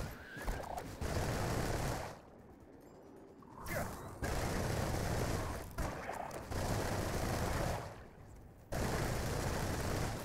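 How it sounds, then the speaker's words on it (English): Rapid, continuous automatic gunfire in the shooter game Remnant 2, loud dense bursts broken by short pauses, several separate volleys over about ten seconds. "even though I'm firing continuously, I won't have to reload"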